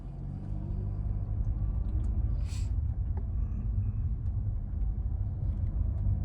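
A car moves through traffic, with a steady low road rumble and engine drone running throughout and no talking.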